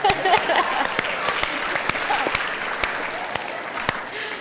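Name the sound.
audience applause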